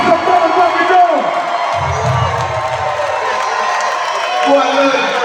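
A live audience cheers and whoops, a loud, continuous crowd roar with a voice shouting over it.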